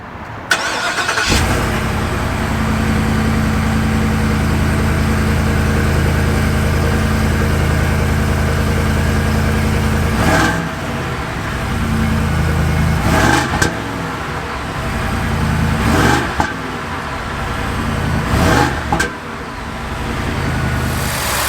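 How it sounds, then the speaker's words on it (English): A 6.8-liter gas engine in a 2024 Ford Super Duty truck idles steadily up close, with a few brief revs rising and falling near the end. "I'll let you guys hear the engine and then we'll do a quick rev."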